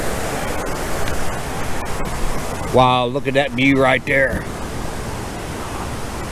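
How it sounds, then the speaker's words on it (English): Waterfall in Michigan's Porcupine Mountains wilderness pours in a steady, loud broadband rush throughout, with someone briefly speaking over it near the middle. "there's the waterfalls"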